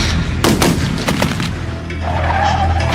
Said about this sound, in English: He heard several gunshots.